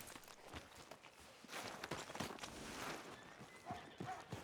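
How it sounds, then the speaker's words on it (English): Horse hooves walking in Red Dead Redemption 2, a steady, close clip-clop of hoofbeats on a trail with soft scuffing between steps, heard alone without talk. "Are you gonna mount that new horse of yours or not?"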